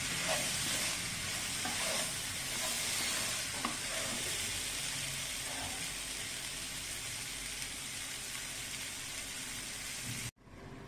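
Mixed vegetables for South Indian sambar, seasoned with homemade sambar masala, cook in a pan with a steady broadband sizzle and occasional stirring scrapes. The sound runs unbroken and fairly close, then cuts off abruptly near the end.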